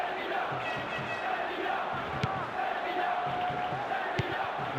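Stadium crowd in the PES football video game roars and cheers steadily throughout, a dense sustained wash of voices with a couple of sharp accents, without commentary over it.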